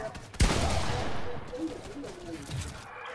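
Gunfire in a 2v2 video game match: a sharp loud blast followed by a rattling burst of shots, with excited voices talking over it.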